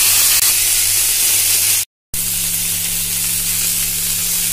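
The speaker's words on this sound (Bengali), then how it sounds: "তেল খুব ভালো মতো গরম হয়ে গেলে আমি এক একটা করে কাবাব স্টিক দিয়ে দেব।" Chicken kathi kebab sticks fry in hot oil in a pan, a loud, steady sizzle with a brief dropout partway through.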